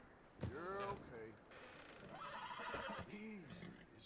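A horse whinnies twice in Red Dead Redemption 2, high falling neighs close by with faint hoof shuffling between them, set over a low, quiet background.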